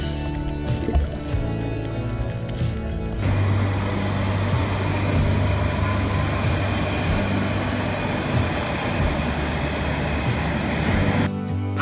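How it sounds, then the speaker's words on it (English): A train rolls past as one continuous, loud rumble with steady low drone and broadband rattle for nearly the whole stretch, rising in intensity after the first few seconds and dropping off abruptly at the very end. "and the train clip is longer."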